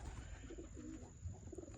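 A pigeon coos softly in a quiet outdoor setting, a few low rolling calls set faintly against a faint steady background hum.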